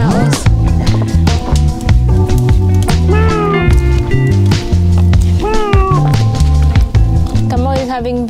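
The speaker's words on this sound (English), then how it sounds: "Guys, here's our cat family" Cats of a household cat family meow several times, their rising and falling calls cutting through loud, continuous background music with a steady beat, with some talk mixed in.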